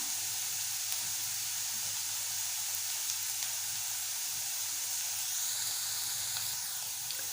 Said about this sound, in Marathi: कांदा आपण थोडा नरम करून घेऊया।